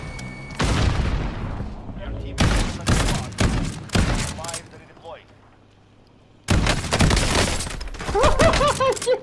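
Gunfire in Warzone: loud bursts of shots and booming impacts arrive in clustered volleys separated by short quiet gaps, with players talking over the fighting.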